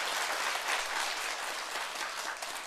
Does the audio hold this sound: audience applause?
yes